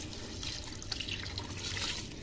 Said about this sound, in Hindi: अब इसमें हम डाल देंगे पानी 4 गिलास से 5 गिलास तक आप डालें